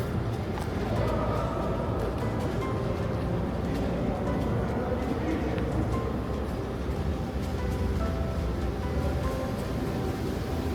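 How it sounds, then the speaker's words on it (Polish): A concrete pump at a tunnel construction site forces concrete through a delivery pipe, making a steady, dense rumbling roar that runs unbroken and loud throughout with no pauses. "No właśnie słychać, że jest podawany beton."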